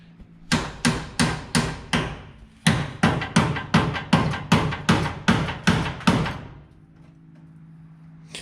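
Repeated sharp metallic hammer blows on a Nissan S14 drift car's bodywork in two quick bursts of about five and eight strikes, close and loud, then a faint hum.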